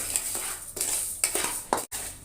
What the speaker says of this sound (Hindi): बर्तन के अंदर आप चीनी को मिक्स करें। चीनी को मेल्ट होने का इंतज़ार करें।